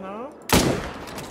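A single loud rifle shot rings out abruptly while hunting fallow deer in a video game, a sharp blast trailing into a rolling echo after a quiet opening with a faint whistling tone.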